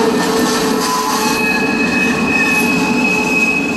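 A northbound CSX freight train rolls slowly past close by, loud and continuous, its wheels squealing with sustained high metallic tones over the deep rumble of the railcars.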